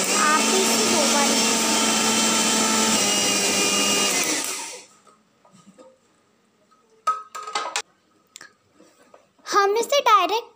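A mixer grinder whirs loudly and steadily while grinding a spice mixture for samosas, then cuts off abruptly, followed by a few faint clinks and brief bursts of a voice.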